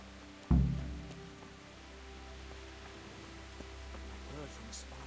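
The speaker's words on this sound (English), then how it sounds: "I love games that have rain." Rain falls steadily in the medieval video game Kingdom Come: Deliverance, a soft constant hiss on surfaces with a low hum underneath and one brief loud thump near the start.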